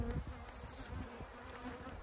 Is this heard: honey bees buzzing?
yes